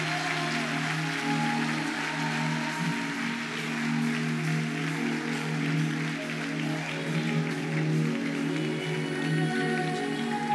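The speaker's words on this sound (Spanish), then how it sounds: "Dele ese aplauso, que llegue al cielo tu aplauso" Sustained applause fills a church worship service, steady and fairly loud for the whole stretch, with music or voices droning beneath the clapping.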